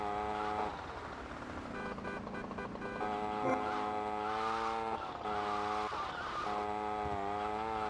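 A car driving in GTA Vice City, its engine tone rising and falling through gear changes with a tire squeal partway through, loud and continuous with game sounds layered over it.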